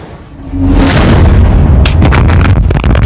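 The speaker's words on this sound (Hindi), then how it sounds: "पहला धमाका," A loud, deep explosion in Gaza erupts about half a second in, followed by a sustained roaring rumble and crackling debris that continues to the end.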